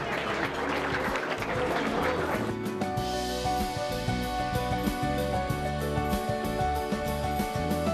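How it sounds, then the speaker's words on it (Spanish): A crowd claps for doctors being invited up on stage at an evening event. A dense burst of applause fills the first couple of seconds, then gives way to steady music. "Fuerte las palmas para todos ellos"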